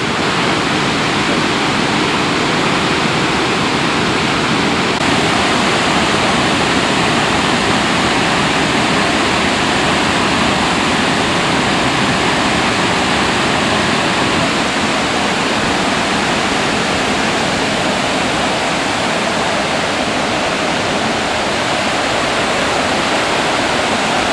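Burney Falls in California pouring down as a thin, broad sheet of water, a loud, constant roar of falling water that holds steady throughout with no voices.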